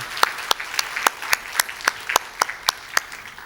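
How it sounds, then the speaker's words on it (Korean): A church congregation claps to welcome newcomers during a Christmas evangelism service, the claps landing in a steady, fairly even rhythm of sharp individual strikes, moderately close and alone over a quiet room. "우리 박수로 한번 축복하고 환영하겠습니다."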